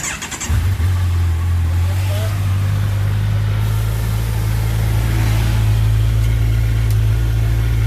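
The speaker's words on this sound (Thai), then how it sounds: "เปิดเครื่องยนต์สตาร์ทรถหน่อย" A Kawasaki Versys 1000 SE motorcycle engine starts up and settles into a steady, loud low idle that runs continuously to the end.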